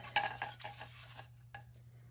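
Faint stirring and scraping of a utensil in a bowl while mixing Canarian mojo rojo sauce, a few soft clinks over a steady low hum.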